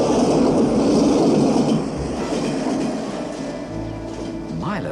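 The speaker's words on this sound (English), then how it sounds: "Milo's gonna get hit by that train!" A train rushes past in a film scene, loud and close, a heavy rolling roar with clattering wheels that eases slightly midway and carries on to the end.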